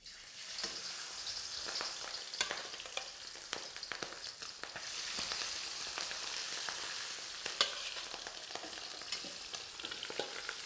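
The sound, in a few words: prawns shallow frying in a wok, Cantonese style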